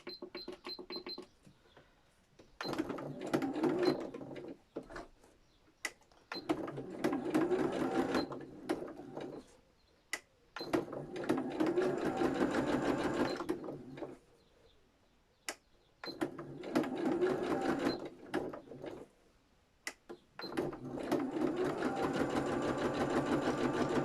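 A sewing machine zigzag-stitching fabric-covered tags with lace, running in bursts of rapid whirring stitches separated by short pauses and clicks, close and clear, with no speech.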